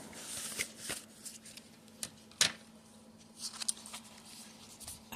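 Paper receipts shuffled and flipped in a folder at the back of a budget book, close crisp rustles and a few sharp snaps in an uneven rhythm in a quiet room.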